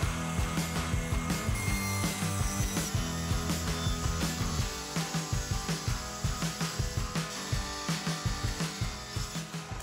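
Saw cutting through a piece of wood for a beehive build, a steady run of close, rasping strokes that turns into quicker, choppier strokes partway through, with no talk.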